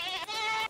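A single goat in the Minecraft video game lets out one short, close, nasal bleat lasting well under a second, alone with no talking.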